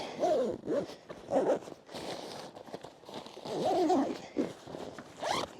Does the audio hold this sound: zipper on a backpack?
yes